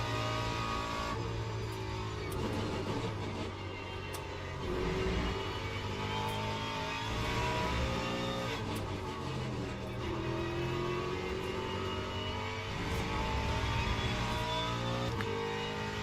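An LMGT3 or LMP2 race car engine drones in Le Mans Ultimate at Sebring, a steady loud high-revving note with rising gear sweeps and brief shift dips, continuous throughout.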